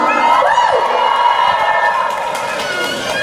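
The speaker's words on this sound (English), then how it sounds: "I think we should make another round of applause and do some screaming, guys" A crowd of fans cheers and screams at a motoring show's F1 special event, with loud, excited shouts and whoops, some from children, swelling up front and then settling into a steady roar.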